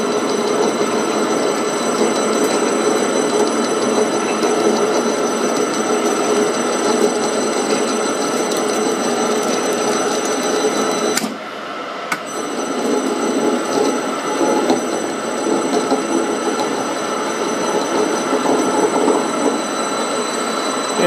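A Grizzly G0752 metal lathe runs with its spindle turning at 114 RPM, giving a loud, steady mechanical drone with a whining tone that drops out briefly midway, then resumes. No talking.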